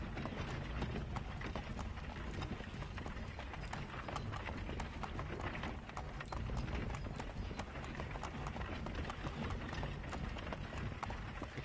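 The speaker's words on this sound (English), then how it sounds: "Horses just spawned in." Galloping horse hooves in Assassin's Creed 3 clip-clop steadily and densely throughout, loud and continuous with a broad rumbling background.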